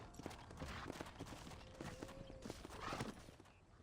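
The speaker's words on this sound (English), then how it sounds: "Hit your horse and wait for me by the stable." Horse hooves clip-clop steadily in Red Dead Redemption, a dense rhythmic run of hoofbeats lasting nearly four seconds amid outdoor game ambience and faint background noise.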